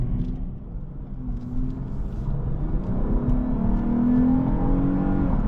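A 2025 Lexus IS 350 F Sport accelerating from the cabin, its engine note a steady, rising drone that builds in pitch and loudness through the run, with no talking over it.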